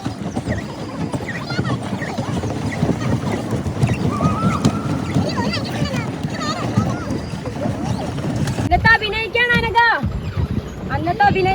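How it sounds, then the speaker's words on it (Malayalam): A pedal boat moves across the water at Mattupetty dam in Munnar, with steady splashing and wind buffeting the microphone under lively, close conversation among several people. "നമ്മൾ ചവിട്ടുപോട്ട് കയറി നല്ല രസമുണ്ട് ഗൈസ്"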